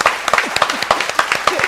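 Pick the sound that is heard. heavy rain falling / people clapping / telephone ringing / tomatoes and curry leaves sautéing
people clapping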